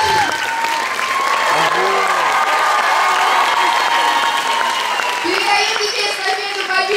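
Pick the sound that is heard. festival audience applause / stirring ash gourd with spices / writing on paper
festival audience applause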